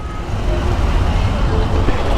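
Jammed road traffic full of buses in Chattogram rumbles continuously with engines idling and moving, a dense low drone of vehicles close by.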